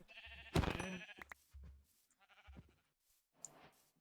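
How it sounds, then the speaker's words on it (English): Sheep in the Minecraft video game bleat in several short bursts, one loud call near the start followed by fainter bleats spread across the clip, with no talking. "Where's that last white sheep?"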